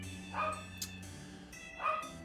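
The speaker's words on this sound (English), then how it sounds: "Sorry if you hear my dog in the background." A dog barks twice in the background indoors, two brief, faint yips about a second and a half apart.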